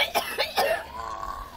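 Three short, sharp coughs come in quick succession during a prayer service, followed by a low, lingering hum.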